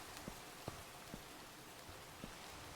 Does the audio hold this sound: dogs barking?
no